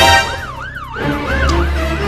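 Wailing police car siren from the Roblox game Brookhaven, rising and falling in a steady up-and-down sweep, loud and close with no talking over it.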